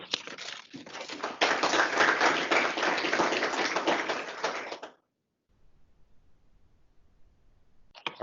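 Audience applause for presenters at a report-out event: dense, close clapping from a room of people for about five seconds, stopping abruptly, followed by quiet room tone and a short burst of sound at the very end.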